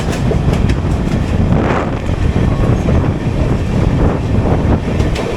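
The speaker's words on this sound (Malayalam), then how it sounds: "ഓപ്പോസിറ്റ് ലൈനിൽ ഒരു പീസ് ആൻഡ് ഹോൾഡ് ട്രെയിൻ വരുന്നുണ്ട്" A train passing on the opposite line beside a moving Surat Intercity AC chair car, a loud continuous rumble and rushing roar with clickety-clack wheel beats and wind buffeting, close and steady throughout.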